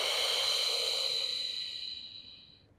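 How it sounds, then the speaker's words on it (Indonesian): A long, soft exhale during a postpartum abdominal exercise for diastasis recti, breathy and quiet, fading out over about three seconds with no talking. "Buang napas."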